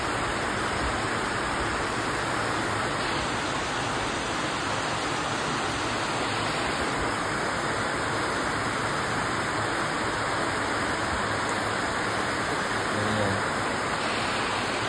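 Heavy rain pours steadily close by and blows in onto a home balcony, a dense unbroken hiss that stays even in loudness throughout with no voices.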